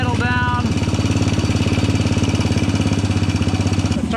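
A Suzuki motorcycle engine idles steadily after a single kick start, its close, loud, rapid, even pulsing running throughout with no break.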